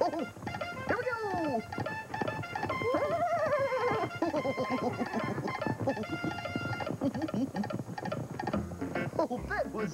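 Children's voices imitate a galloping, neighing horse with rising and falling whinnies over a clicking, clip-clop rhythm. The voices are lively and close, with a few voices overlapping.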